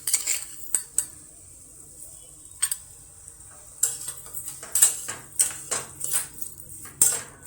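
A metal tablespoon clinks and taps against a cooking pan while sugar is added to tomato chutney. There are about a dozen sharp, close, irregular clicks with quiet gaps between them.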